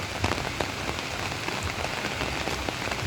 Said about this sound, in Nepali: आज फर्स्ट टाइम यो सालको पानी परेर झरी लागेको छ।